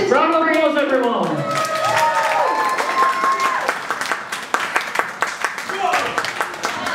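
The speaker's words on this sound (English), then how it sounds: "Round of applause, everyone." An anime convention crowd applauds a giveaway winner during a Marvel versus DC debate. Voices and cheering open the clip, then scattered hand claps build into steady applause that fades near the end.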